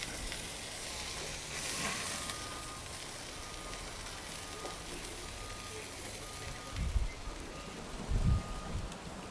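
Burgers sizzle on a backyard barbecue grill as they are flipped, a steady close frying hiss throughout with a few duller thumps of the spatula near the end.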